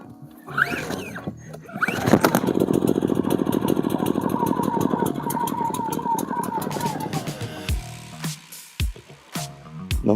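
An AIVOLT 3200W inverter generator cranks and starts, then settles into a steady, fairly loud engine run lasting several seconds before it drops off, with clicks and knocks nearby.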